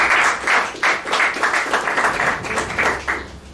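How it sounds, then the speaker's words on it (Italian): A small audience at an Italian news event claps in sparse, uneven bursts, the separate hand claps distinct and fairly close, dwindling after a few seconds. "lo accoglierei con un applauso."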